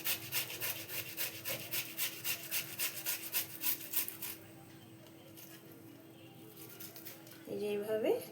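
Boiled potatoes are grated by hand, a rhythmic rasping scrape repeating about twice a second up close for roughly four seconds, then stopping, with a low steady hum underneath and a brief voice at the end.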